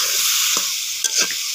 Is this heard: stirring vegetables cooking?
yes